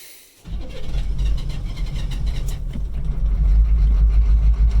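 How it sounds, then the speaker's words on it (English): An old 1986 Chevrolet K5 Blazer diesel engine cranks and catches, then settles into a loud, steady low chugging idle that builds slightly. "There it goes, and it'll just kind of chug along,"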